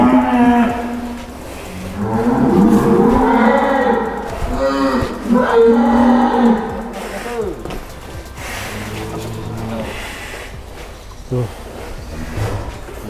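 Huge sacrificial cow led out of its pen, giving long deep moos, loud and close, with people talking over and between the calls and some clanking of pen fittings.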